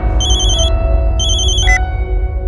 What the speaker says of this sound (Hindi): आपके फातिमा वाले नंबर पर पाल का फोन आ रहा है।